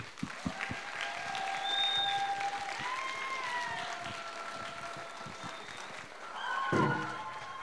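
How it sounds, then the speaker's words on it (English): Moderate audience applause at a school Women's History Month assembly, a soft, even wash of clapping hands lasting several seconds, with a few sharper taps near the start and a brief swell toward the end. "Big round of applause for her"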